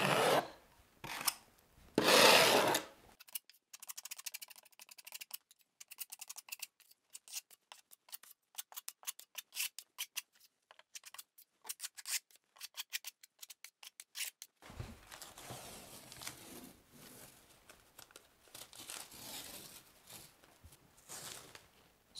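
Tape is pulled off a tiled shower wall at a drywall and cement backerboard joint, giving close, rapid crackling and tearing bursts. A long run of fine ticking separates louder rasping stretches at the start and end.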